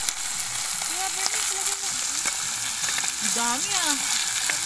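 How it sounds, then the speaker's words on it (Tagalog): Boiled fish sautéing with garlic and onion in a pan gives a dense, continuous hiss of frying throughout, while people chat and exclaim over it. "Ginisa muna natin sa pinakuluan, sabay ginisa sa bawang,"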